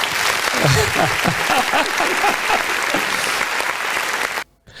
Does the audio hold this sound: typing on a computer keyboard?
no